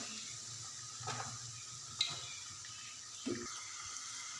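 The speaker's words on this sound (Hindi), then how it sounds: "प्याज को हम अच्छे से करेंगे फ्राई, गोल्डन फ्राई कलर आने तक हम इसे पकाते हैं" Onions frying in a pan with garlic, a soft steady sizzle with occasional stirring scrapes and light clinks from a utensil against the pan, close and fairly quiet.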